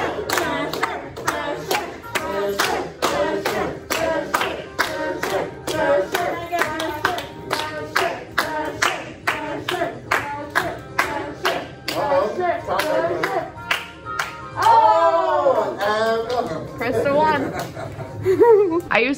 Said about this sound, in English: now we all cheer